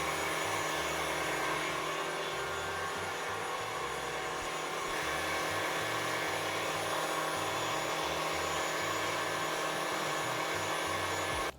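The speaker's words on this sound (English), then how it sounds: "I'm gonna pour my 3/4 of a cup of whipping cream, heavy whipping cream, in my KitchenAid and start it" A KitchenAid stand mixer whips heavy cream, a steady loud motor whine with a whirring drone and rhythmic low churning, continuous and close, no voices.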